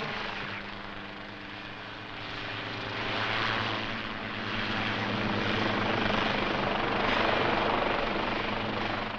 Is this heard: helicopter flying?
yes